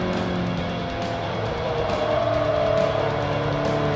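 Car sliding with its back end loose and tires skidding in the racing game Forza 3, a steady engine roar with continuous tire squeal running loud throughout, no talk.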